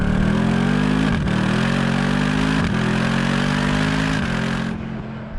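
A Mercedes-AMG SLS Black Series engine, without turbos, revs hard through several gear changes, the exhaust roaring loudly and climbing in pitch before easing off at the end.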